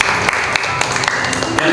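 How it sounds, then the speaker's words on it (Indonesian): Steady applause from an audience at a development forum marking Bandung Regency's anniversary in Indonesia, dense and continuous clapping throughout, fairly loud. "tepuk tangan ke beliau ya"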